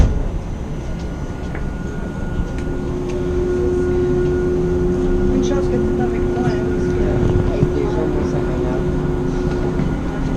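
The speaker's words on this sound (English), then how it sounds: "The train is leaving. Please hold on." An airport terminal train rumbles steadily and a sustained tonal whine rises out of the mechanical noise, loud and close, as if heard from on board while it pulls away.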